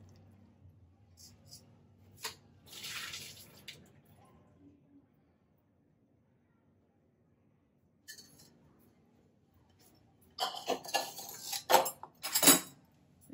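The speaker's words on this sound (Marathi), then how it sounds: "मी आता हे चाळणीत वेळत ठेवते, गॅस घालवते, पाणी आपण काढून टाकूया" Boiled cauliflower water is drained through a colander in a kitchen: brief clinks and scrapes of metal utensils and pans come in bursts, with a quiet gap in the middle and a louder clattering cluster near the end.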